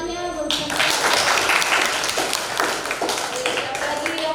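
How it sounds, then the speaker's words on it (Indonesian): Students in a classroom clap together, a lively crackle of many hands that starts abruptly and holds steady for several seconds, with a few voices mixed in. "Tepuk tangannya."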